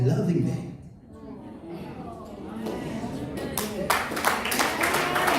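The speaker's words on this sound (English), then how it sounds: "You can clap for me." An audience at a church sermon breaks into scattered clapping that builds toward the end, heard under a preacher's ongoing speech.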